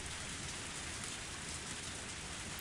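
Steady, even rainfall hisses continuously in a video game scene, a soft but dense patter with no breaks and no voices.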